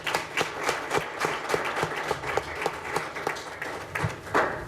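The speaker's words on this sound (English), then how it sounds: "Can you just give a clap for this?" An audience claps at the 2024 SAIEE President's Invitational Lecture, a dense, continuous spread of hand claps with strong individual slaps pulsing through, close and fairly loud with no talking.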